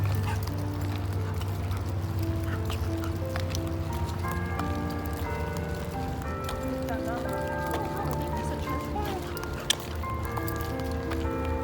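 Several dogs bark and yip outdoors, a steady mix of overlapping barks and whines through a constant background hum, with people talking over them.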